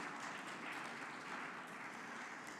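Dense, steady applause from an audience at a company annual general meeting for the SVL team, a continuous wash of many hands clapping at moderate distance with no speech over it.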